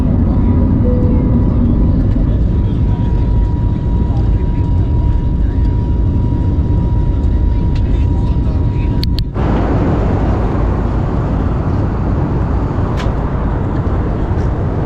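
A steady, loud jet engine roar fills the whole stretch, constant and close, like an airliner powering up on the runway.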